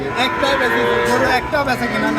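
Holstein Friesian cattle moo loudly and close by at a rainy cattle market, long drawn-out calls overlapping, with a faint murmur of people in the background.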